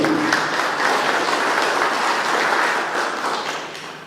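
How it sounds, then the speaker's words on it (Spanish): An audience at a literary event in Huaraz, Peru claps in sustained applause, a dense even patter of many hands that holds steady before tapering off at the end. "vamos a dar un fuerte aplauso a Edgar Norabuena Figueroa."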